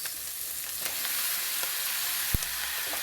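Chopped bottle gourd sautéing in a pan for a mixed vegetable dish with ground meat, giving a steady broadband sizzle with a few soft stirring knocks and one sharp clink near the end.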